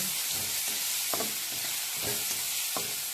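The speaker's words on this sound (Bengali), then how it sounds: "এই যে পেঁয়াজ ভাজি করতেছি, যদিও আমি এক হাতে নাড়তেছি আর এক হাতে ভিডিও করতেছি" Onions and green chillies fry in hot oil with a steady bright sizzle, while a spatula stirs them one-handed and makes periodic scraping knocks against the pan.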